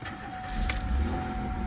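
A Cadillac Cimarron's 2.8 engine catches and settles into a low, steady rumble, with a brief sharp click near the start.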